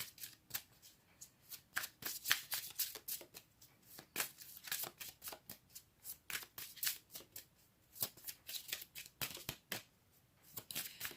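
Tarot cards being shuffled by hand, a steady run of crisp riffling and snapping bursts that repeat in quick rhythm, close and fairly quiet, with no talking.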